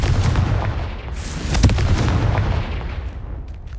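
Confringo, the explosive fire spell in Hogwarts Legacy, goes off as a loud, rough blast with a sharp crack in the middle and a rumbling tail, set against steady background noise.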